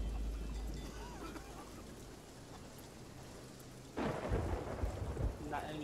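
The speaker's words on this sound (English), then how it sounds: "Oh! I just got struck by lightning." A pirate video game thunderstorm brings steady rain and a low rolling rumble, then a lightning strike lands as a louder, crackling crash near the end.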